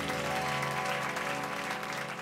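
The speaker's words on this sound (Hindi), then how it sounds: "के लिए बजाइए एक बार जोरदार तालियां" Applause from a studio audience at a Children's Day stage show in a Hindi TV sitcom, steady dense clapping over music with sustained tones, moderately loud throughout.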